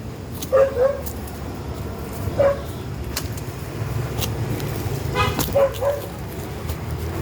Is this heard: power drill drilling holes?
no